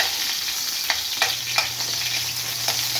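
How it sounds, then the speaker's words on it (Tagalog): Onion sizzling and frying in a hot pan, a steady crackling hiss with a few sharper spatters as it is stirred, close and alone with no talk. "So, giunan ako ang onion."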